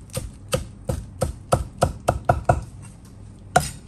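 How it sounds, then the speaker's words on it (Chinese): Scallions chopped into small rings with a knife on a cutting board, about a dozen crisp, evenly spaced chops, close and clear, with a short pause near the end. "小葱洗净切成葱花"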